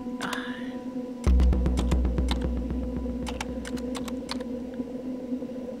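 Keyboard keys pressed in The Turing Test puzzle game, a run of sharp clicks in an irregular rhythm over a steady electronic hum, with a thump just before they start and a faint tone at the beginning.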